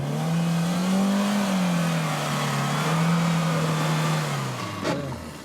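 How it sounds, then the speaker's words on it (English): Suzuki Jimny 4x4 engine revving hard on a steep dusty hill climb at an off-road club challenge, a loud sustained droning growl that rises and falls in pitch, close and without talking. "the Jimny makes a lot of noise and a lot of dust."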